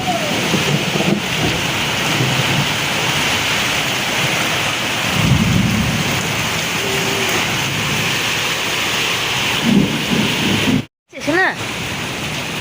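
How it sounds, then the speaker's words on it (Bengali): A heavy thunderstorm with pouring rain, heard from inside a leaking house with water coming through the walls, a loud, dense, continuous roar of rain with rumbles of thunder throughout and a brief break near the end. "সেই লেভেলের ঝড় বৃষ্টি দেখো।"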